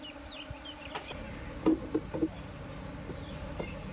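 Indian honey bees swarm around a hive box, making a steady, close buzz with a few louder passes as individual bees fly near.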